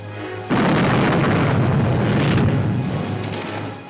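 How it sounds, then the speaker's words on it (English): A ship's cannon firing a warning shot across another vessel's bow in a 1953 serial adventure, one sudden loud boom that rolls on as a long rumbling roar and slowly fades. "Fire a shot across her bow."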